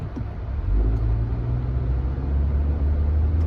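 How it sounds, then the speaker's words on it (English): Steady car traffic rumbles at a city intersection, a continuous low engine drone that holds evenly throughout with no voices. "So I'm in the middle of the traffic"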